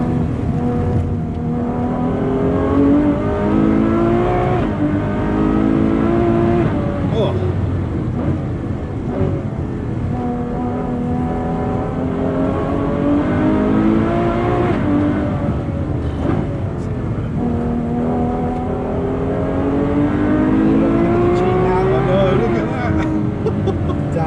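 A Ferrari 812 Superfast V12 pulls hard at speed with a loud, sustained wail that climbs through repeated gear changes over about twenty seconds, while occupants talk excitedly over it.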